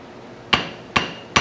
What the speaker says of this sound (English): I tap just to drop the hammer and not hold it up